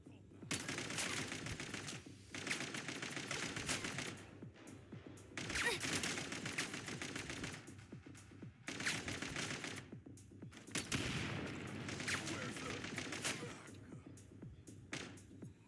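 Enemy gunfire in a video game comes in three long, loud volleys of rapid overlapping shots, separated by short lulls.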